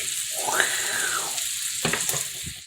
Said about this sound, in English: I'm going to continue frying this.